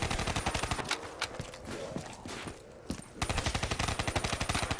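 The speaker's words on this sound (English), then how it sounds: "Headshots in this game sounds super cool." Rapid, evenly spaced automatic gunshots ring out in Black Ops 3 Zombies, two loud bursts framing a quieter stretch of softer impacts in the middle.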